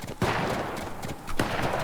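Gunfire in the video game Fortnite: two sharp, loud bursts of shots stand out against a steady, noisy game backdrop, with a steady ambient wash filling the gaps between them.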